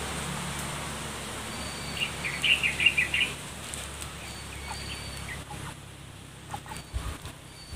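A turkey gobbles in a short burst of rapid, rattling calls, fairly distant and moderately loud over steady outdoor background noise, with a few fainter calls near the end.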